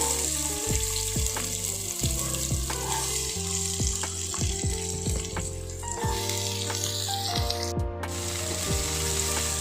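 Onion, cinnamon and cloves fry in hot oil with a continuous bright sizzle and hiss, while soft background music plays underneath.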